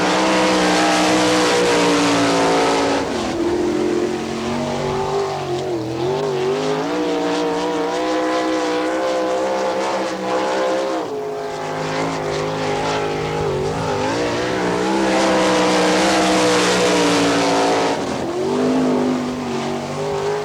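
A sprint car with the All Stars tour at Wichita, Kansas roars through a qualifying lap, its engine note rising and falling through the corners, loud and continuous for about twenty seconds.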